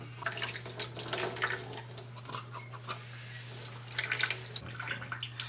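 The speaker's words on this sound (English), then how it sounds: "I'm going to be draining some water." Water pours and splashes steadily as a pot of pasta is drained into a sink, a close, continuous rush with no talking.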